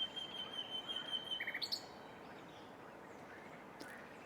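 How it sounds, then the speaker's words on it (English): Birds chirp and tweet in a quiet riverside setting on the Ardèche river, a few short high calls standing out over a soft background hush. "Listen to the birds."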